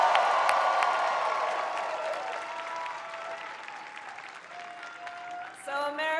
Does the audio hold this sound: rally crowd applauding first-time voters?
yes